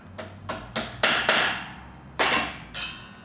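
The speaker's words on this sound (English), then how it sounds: "Started with the hammer." Sharp hammer taps on a metal stud during a truck deck install, several quick strikes with ringing decay, a pause, then a few more blows.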